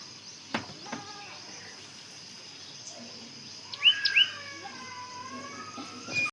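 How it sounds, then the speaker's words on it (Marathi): Birdsong on a calm village morning: a short cluster of chirps and tweets rises midway, fairly close, over a quiet rural background with a few faint clicks and knocks. "कसं वातावरण एकदम शांत निवांत, पाखरांचं किलबिलाट"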